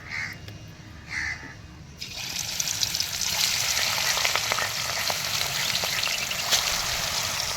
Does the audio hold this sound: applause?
no